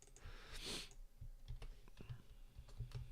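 Quiet, irregular clicking of keys on a computer keyboard during live coding, with soft scattered taps and a brief breathy hiss early on.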